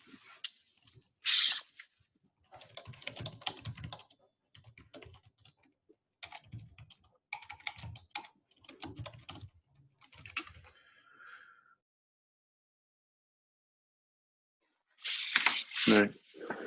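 Typing on a computer keyboard during a team meeting, irregular bursts of clicky keystrokes separated by pauses, fairly close and alone, with a louder flurry near the end.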